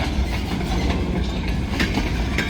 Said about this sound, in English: What a long train this is for just one locomotive.